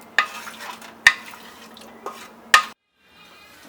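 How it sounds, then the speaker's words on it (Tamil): Water being stirred into basmati rice in a cooker for mutton biryani, with a spoon striking and scraping the pot in several sharp knocks between wet swishing. "3 சின்ன டம்ளர் அளவு தண்ணி சேர்த்துட்டு இதை வந்து நல்லா மிக்ஸ் பண்ணிக்கிறேன்"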